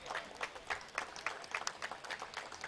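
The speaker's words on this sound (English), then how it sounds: "A big round of applause to the East Point Golf Club." Applause from an audience at the East Point Golf Club ceremony during the Andhra Open Golf Championship: steady, fairly faint clapping from a moderate crowd, heard at a distance with no talking over it.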